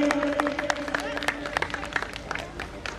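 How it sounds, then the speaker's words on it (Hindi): Scattered claps from an audience welcome a guest at a 2022 Holi Milan gathering, mixed with a steady sustained tone and background chatter for about three seconds. "जोरदार तालियों से स्वागत करेंगे।"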